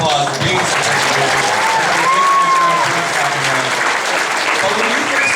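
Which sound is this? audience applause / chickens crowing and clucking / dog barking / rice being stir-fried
audience applause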